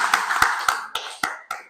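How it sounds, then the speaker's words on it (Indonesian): A classroom group at an Indonesian Islamic studies lesson claps in unison, six crisp, evenly spaced claps in a quick rhythmic pattern, fairly loud in a small room. "Kita tepuk tangan dulu."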